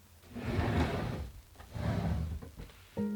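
A wooden drawer slides open or shut twice with broad rumbling scrapes, each swelling and fading, ending in a sharp knock as it stops.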